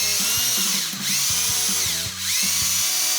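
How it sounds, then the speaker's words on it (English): A power drill drives a hole through IKEA Platsa frames, its motor whining loud and close with a gritty buzz and two brief dips in speed as the bit bites. "We need to drill a hole through both frames to bring this idea to life."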